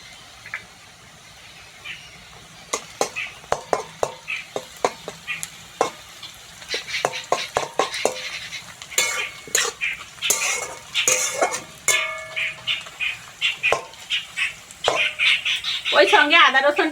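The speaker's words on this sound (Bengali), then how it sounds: "পেঁয়াজটা হালকা ভেজে নিয়েছি, এবার কাজু আর কিশমিশটা দিয়ে দেবো" Cashews and raisins fry with lightly browned onions in a pan, sizzling under repeated clinks and scrapes of a spoon stirring against the metal, close and fairly loud, with a voice talking at times.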